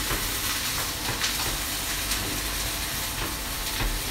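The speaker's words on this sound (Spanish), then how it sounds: "Que se vaya dorando poquito a poco la cebollita" Onion slowly browning in a pan for a pork tenderloin onion sauce, a steady close sizzle and crackle with soft periodic stirring scrapes and no talking.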